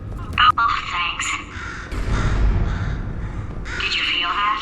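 Crow cawing in the video game Portal 2, a few harsh squawks in quick bursts near the start and again at the end, over steady game ambience and a low rumble.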